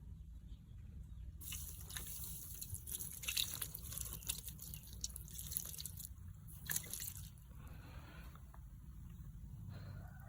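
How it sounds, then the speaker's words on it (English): Water poured onto a repaired cement surface outdoors, quiet splashing and dripping in uneven bursts over about ten seconds, faint and close. "Now let's try pouring water."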